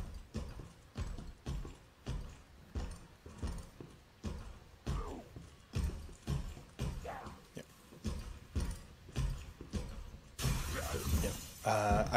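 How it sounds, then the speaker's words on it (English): A window crashes loudly near the end of a tense stretch in Resident Evil 2 Remake, after a long run of heavy, regular stomping footfalls. "I heard the crashing window, got nervous, and decided just to book it."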